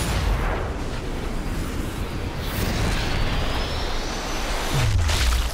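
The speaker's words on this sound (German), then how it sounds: "Mach eine Explosion." An explosion in the video game Sniper Elite 4, a loud broad rumbling blast with debris-like roar that sustains and swells again near the end, heard alone with no talking.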